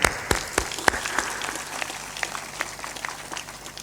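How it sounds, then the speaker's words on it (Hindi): A seated crowd claps at an evening Hindu satsang gathering, several sharp close claps giving way to a steady patter of applause that thins out over a few seconds. "ताली बजाते।"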